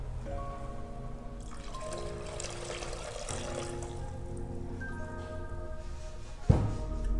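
Water trickles and pours into a gelato batch freezer over several seconds against a steady machine hum, ending with a brief louder splash or clunk near the end.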